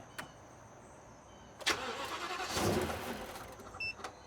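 An old Sunstar RV engine cranking as it tries to start: a few faint clicks, then a rising whirring crank that grows louder for a couple of seconds and then falls away without catching, no voices.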